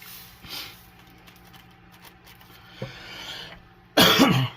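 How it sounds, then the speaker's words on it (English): A few scattered coughs and throat-clearing sounds, faint at first, ending with one loud, close harsh cough. "Sorry about the coughing."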